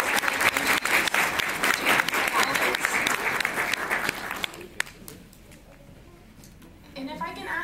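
Audience applause at a South San Francisco fire prevention poster award ceremony with the mayor: dense, steady clapping for about four seconds, then it dies away into quiet room noise and brief voices.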